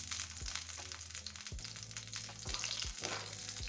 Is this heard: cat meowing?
no